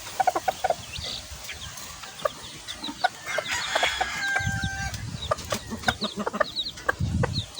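Six four-day-old chicks cheep and peep in repeated short bursts close by, with rustling and a few low thumps in between, and no talk.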